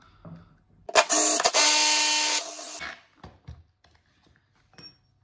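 A power drill bores a pilot hole into a plasterboard wall fixed with dot and dab, one loud burst of about two seconds that whines down, followed by a few faint knocks and handling clicks.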